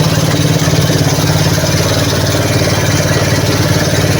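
A loud motorcycle engine idles close by with a rapid, regular connecting rod knock running through its steady rumble.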